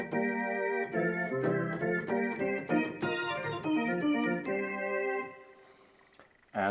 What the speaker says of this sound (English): So if you push down a selection of flutes, you get a basic organ sound like this.